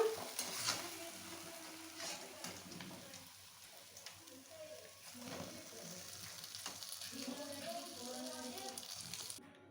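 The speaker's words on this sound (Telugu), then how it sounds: "ఈ బాదుషాలన్నీ పర్ఫెక్ట్గా ఫ్రై అయిపోయాయి" Badusha sweets made from wheat flour deep-fry in hot oil, giving a steady, soft, continuous sizzle with occasional stirring clatter close by.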